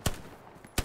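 Gunfire in Hell Let Loose: two sharp, close shots less than a second apart, with quiet background between them.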